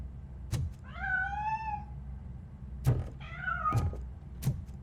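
Two drawn-out, rising-and-falling cat meows from a video game, RoboCop: Rogue City, each set among dull thumps and knocks over a low background rumble, fairly close and clear.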